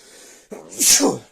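A single person sneezing close by, a short inhale followed by one sharp, loud burst, in a quiet room where rabbits are kept.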